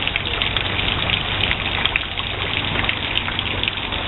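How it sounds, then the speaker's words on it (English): Heavy South Texas rain pouring down, a dense, loud, continuous roar of falling water with no break and no voices, close and steady throughout. "This is South Texas rain."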